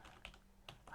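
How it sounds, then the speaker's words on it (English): Quick keystrokes on a computer keyboard while coding a Django tutorial, a few close, crisp clicks in a brief quiet burst. "what's wrong with my typing today?"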